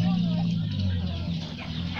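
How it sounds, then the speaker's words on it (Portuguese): Feather-footed chickens cluck at close range on a small farm property in southern Brazil, a continuous low murmur of hens with a person talking over them. "Aqui, ó, as galinhas bombachudas."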